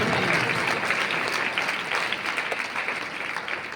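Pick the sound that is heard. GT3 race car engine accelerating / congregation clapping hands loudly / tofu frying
congregation clapping hands loudly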